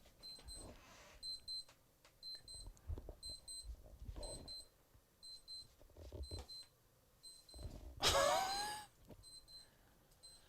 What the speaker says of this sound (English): one of our stopwatches that has an alarm set